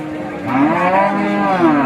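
A cow at a cattle market moos loudly and close by, one long drawn-out low call with a rising and falling pitch, no voices over it.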